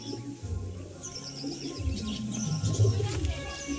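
Several Dasu line pigeons coo together at home, a low burbling chorus that swells toward the end with scattered higher chirps, close by and without speech.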